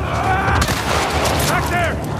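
Gunfire in The Last of Us Part 2 as Joel fights off a horde of infected: several sharp shots crack over a dense, loud battle mix while characters shout throughout.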